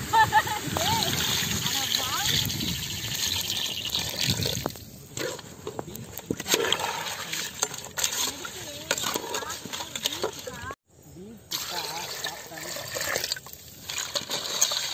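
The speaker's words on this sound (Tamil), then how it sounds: "கொள்ளிட ஆத்து தண்ணி எடுத்து சேர்த்துக்கிறாங்க" Water from the Kollidam river is poured into a pot of crab soup with fried crab in an outdoor village kitchen, a steady splashing pour with drips, while a person talks over it.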